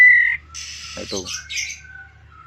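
A young male white-rumped shama chick, 11 days old, gives raspy, squawking begging calls, brief and close, while a person speaks briefly nearby.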